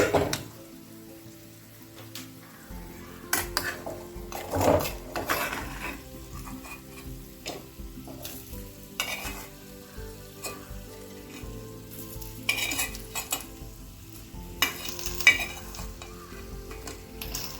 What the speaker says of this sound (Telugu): ఈ వేగిన రొయ్యల్ని ఉడికించిన గోంగూరలో వేసుకుందాం